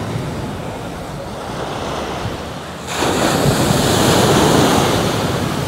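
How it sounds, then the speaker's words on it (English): Ocean surf at Eagle Beach rolls in steadily, a broad wash of breaking waves with wind rumbling over the microphone, growing louder and fuller partway through. "I can see some waves, more than usual maybe."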